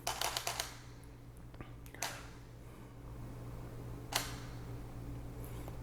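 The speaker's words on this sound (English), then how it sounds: "So I'll go ahead and take this photo" A camera mounted on a tripod in a kitchen fires its shutter in a quick cluster of crisp mechanical clicks, then gives a single click after a pause and another about two seconds later, all close and clear over a quiet room hum.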